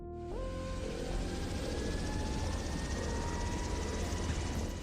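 Black Hawk helicopter flying with no one on board, a steady loud rotor and turbine roar filling the whole clip, with a rising whine at the start and no voices.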